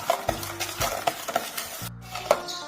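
A spoon stirs sugar into milk for aval milk, a sweet flattened-rice drink, with repeated scraping and clinking strokes against the vessel, close and moderately loud with no talking.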